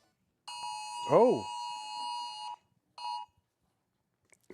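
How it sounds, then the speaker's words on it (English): A phone's emergency alert goes off during a Classic Tetris tournament broadcast, a loud steady electronic tone lasting about two seconds, then a brief second burst, while a voice briefly reacts over it. "There's an emergency alert."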